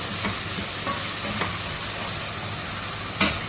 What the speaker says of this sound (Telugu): బాగా ఫ్రై చేసుకోవాలి పచ్చి పచ్చివాసన అనేది పోవాలన్నమాట